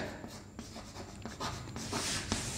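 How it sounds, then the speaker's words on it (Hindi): Marker or chalk scratching across a classroom board while a point is written, a series of short, uneven strokes at close range with no talk over them. "तो ये वाला पॉइंट में लिख देता हूं"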